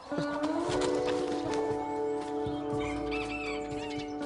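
A backyard cockerel named Lloyd, still learning how to behave as a rooster, crows close by in one long drawn-out call with faint clucking and bird sounds behind it.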